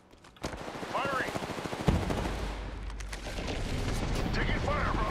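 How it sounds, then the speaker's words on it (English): Apex Legends gunfire crackles in dense, rapid automatic bursts that build from a sparse start into sustained, loud shooting, with in-game voices calling out over it. "Taking fire, Ross."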